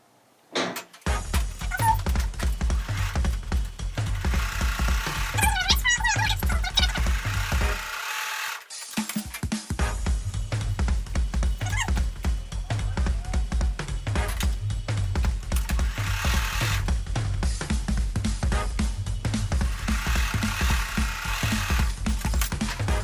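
A sewing machine runs steadily, stitching strip-pieced quilt fabric for half square triangle blocks, with a brief pause near the middle before the motor hums on again, loud and close throughout.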